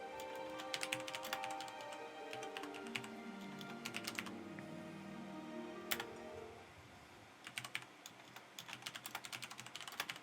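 Bursts of fast, clicky typing on a clacky computer keyboard come close and sharp, pausing briefly mid-way before resuming in quick flurries over soft background music.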